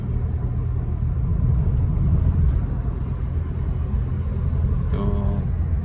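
A Fuso truck cruising at about 55 km/h on the Trans Sumatra toll road, with a steady, loud, low engine and road rumble throughout and a brief higher-pitched tone near the end.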